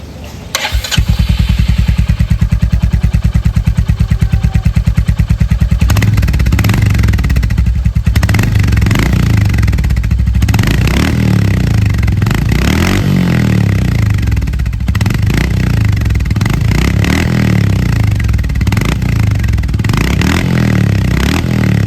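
A Royal Enfield Hunter 350 fitted with a Powerage aftermarket exhaust starts up, then idles and revs repeatedly, its loud, thumping single-cylinder exhaust note rising and falling close by for about twenty seconds.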